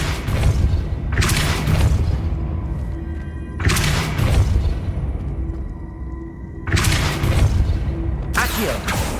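Depulso banishing spell cast in Hogwarts Legacy: three loud, broad booming blasts with thudding low ends, each roughly a second long and spaced a few seconds apart, ringing out over a steady game background.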